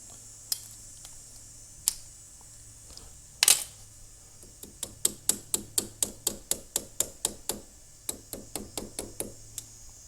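Rapid series of sharp metallic hammer strikes peening over metal on an ATV CV joint during a boot install, about fifteen close, crisp blows in a quick steady rhythm after a few scattered taps and a louder clank.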